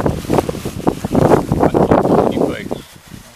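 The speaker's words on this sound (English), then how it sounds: "it's bad windy." Strong gusting wind buffets the microphone with loud, continuous rumbling roar, easing briefly near the end.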